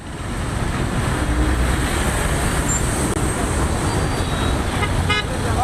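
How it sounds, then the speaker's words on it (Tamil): Heavy traffic crawls along a jammed highway toward Chennai after the Pongal holidays, a dense steady roadside roar of engines and tyres with scattered horn toots. Crowd voices blur into the background. "ஒரே நேரத்தில் அதிக அளவிலான வாகனங்கள் குவிந்ததால் வாகனங்கள் ஊர்ந்து சென்றன."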